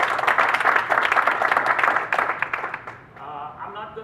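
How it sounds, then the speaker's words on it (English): A round of applause from the crowd at a Republic Day celebration held by a town government, dense clapping that carries on and then thins to scattered claps near the end. "So we want a round of applause for Judy Bosworth."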